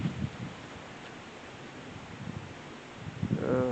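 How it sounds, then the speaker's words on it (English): Strong storm wind outdoors, a soft broadband rush and microphone buffeting that swells near the end, fairly faint and steady, with no voices. "show you kind of wind we're getting right now"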